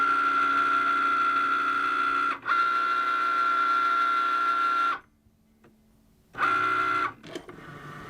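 A Cricut cutting machine scores lines into a sticker sheet with a steady mechanical whir and a high whine from the moving carriage, running continuously, pausing briefly near the middle, then dropping to near silence before a short final burst.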